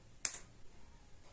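A single crisp finger snap, close and isolated against a quiet room, with a short bright decay.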